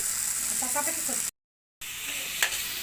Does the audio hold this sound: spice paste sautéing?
yes